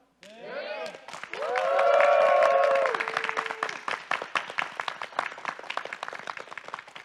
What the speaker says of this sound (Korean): 여러분의 커다란 박수와 함성으로 모실까요